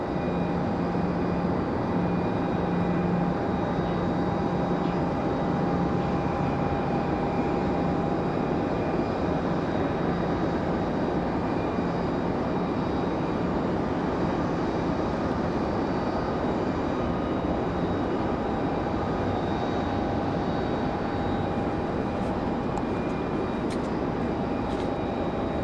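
A Delta airliner landing on runway 5 left at Raleigh-Durham airport: a steady, loud jet roar with a faint whine persisting throughout, heard alone without talk.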